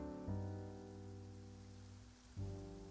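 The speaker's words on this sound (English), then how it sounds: "It's raining." Steady rain falls in the video game Genshin Impact, a continuous soft hiss under a layer of tonal game music.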